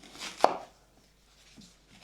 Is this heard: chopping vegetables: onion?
yes